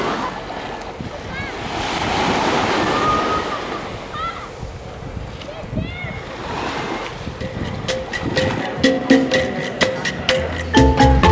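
Surf washes steadily onto the beach at Secret Harbor, St. Thomas, US Virgin Islands, with wind buffeting the microphone; toward the end, sharper knocks and clicks sound close by over the waves.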